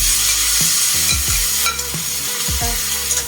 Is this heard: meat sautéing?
yes